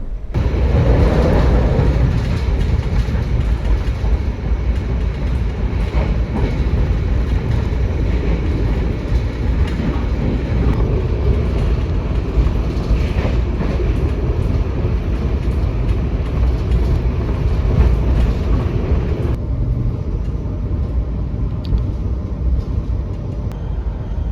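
Onboard the Jayakarta economy train out of Pasar Senen, Jakarta: a continuous loud rumble of the running carriage with rhythmic wheel clatter, steady for the whole stretch.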